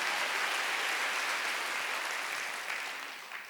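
Sustained applause from a church congregation, a thick even roar of clapping that slowly fades toward the end, moderately loud and without speech.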